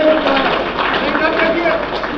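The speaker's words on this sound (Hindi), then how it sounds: "जोरदार ताली बजती रहनी चाहिए।" A crowd at a Congress party welcome ceremony in Patna claps hard and continuously, a thick, even patter of many hands with voices mixed in.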